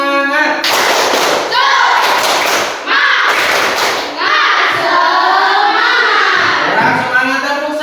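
Students in a school classroom do a rhythmic spirit clap, sharp hand claps and slaps in quick patterned bursts mixed with loud group chanting of young voices throughout.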